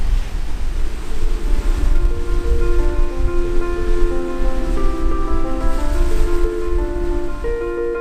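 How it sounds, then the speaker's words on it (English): Sea waves wash over and behind rocks on the Isle of Skye shoreline, a loud, continuous roaring rush of surf with steady wind noise and a faint tonal hum beneath. "I love the way the water's coming over the back of the rocks."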